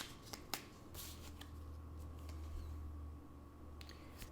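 Tarot cards shuffled by hand during a reading, soft crisp riffling and snapping bursts near the start and again at the end, quiet overall with a low hum, no talking.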